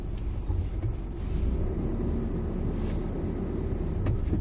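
A big truck-based off-road camper's engine drones in a continuous low rumble while driving, steady and fairly close, with faint road and wind noise and no voices.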